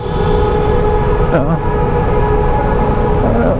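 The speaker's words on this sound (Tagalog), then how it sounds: "Bakit bumubusina?" Sustained vehicle horn tones blare over heavy traffic rumble and crowd noise on the Ternate–Nasugbu Road, close and loud, with a brief wavering siren-like note partway through.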